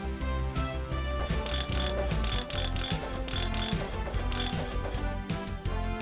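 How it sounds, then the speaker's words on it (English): In the Tonka Workshop tire-changing game, a socket wrench ratchets in quick repeated clicks over busy, steady game music. "Twist your socket wrench to show me you're ready."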